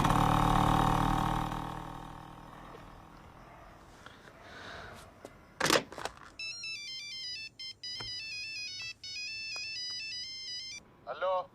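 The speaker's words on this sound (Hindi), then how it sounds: "तेरे किसी दोस्त का फोन आ गया" A ringtone plays in a repeating electronic melody, loud and close, following a few seconds of low muffled background noise and a brief knock.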